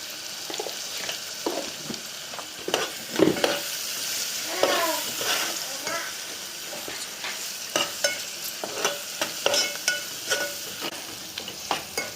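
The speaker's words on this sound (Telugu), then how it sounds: "ఉల్లిగడ్డలు వేసినప్పుడే పసుపు వేస్తే ఉల్లిగడ్డలు తొందరగా ఎగుతాయి" Onions frying with turmeric in a pan for a Telugu-style chicken gizzard fry, a steady close sizzle broken by repeated scraping and stirring clatters of a spoon against the pan.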